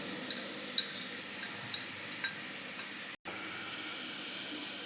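Grated vegetables frying in hot oil in a pan, a steady loud hiss and sizzle with light stirring taps, briefly cut off near the end before resuming.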